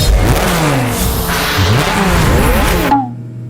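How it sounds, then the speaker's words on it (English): A Lamborghini engine revs loudly and close by, its pitch sweeping up and down through a few rises over about three seconds before cutting off abruptly. "The mystery gift was a Lamborghini."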